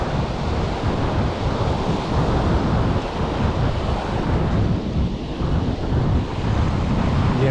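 Ocean surf at Praia do Francês beach in Alagoas, Brazil: a continuous, loud roar of breaking waves with heavy wind buffeting the microphone throughout.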